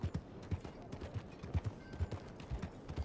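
Horse hooves clip-clop in a steady walking rhythm in Red Dead Redemption 2, close and moderately loud, with faint ambient game sound behind and no talk.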